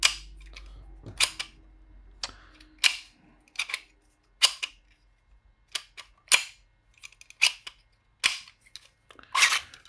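A toy block disc launcher fires in a series of sharp, snappy clicks and cracks, about a dozen shots spaced unevenly over ten seconds, close and clear against a quiet background.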